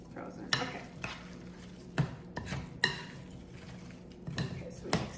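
Slightly frozen hash browns being stirred into a cheesy potato casserole, with scattered soft scrapes and clinks of a utensil against the dish at close range and light background noise.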